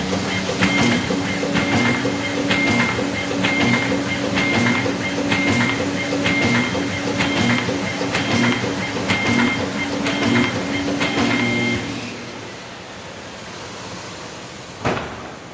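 A Bacciottini OXO Multiskill creasing and folding machine runs loudly with a steady mechanical clatter and regular rhythmic ticks, then winds down near the end, leaving a quieter hum and a single knock.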